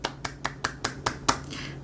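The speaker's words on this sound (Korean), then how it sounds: "같이 박수를 칠까요?" Seven sharp, evenly spaced hand claps from a single person, close and distinct, with a steady low hum underneath.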